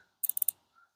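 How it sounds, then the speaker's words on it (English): A quick burst of four or five sharp, bright plastic clicks in rapid succession as a wire coupler snaps into place on a dipole antenna, close up and crisp, followed by quiet. "There's the nice little clip I've been waiting to hear."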